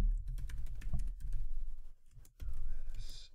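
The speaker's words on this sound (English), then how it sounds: "let's go ahead and type this in right here" Someone types steadily on a computer keyboard, producing a close, continuous patter of key clicks with one short pause.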